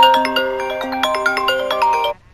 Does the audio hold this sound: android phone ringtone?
yes